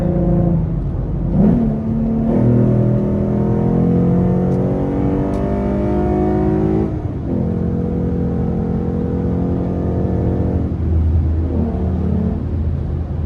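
A 2014 Ford Mustang V6 pulling hard on a highway in third gear, its engine note rising steadily as it accelerates, dropping at a shift, then climbing again, loud and close from inside the car.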